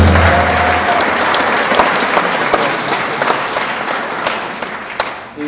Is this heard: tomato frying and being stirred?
no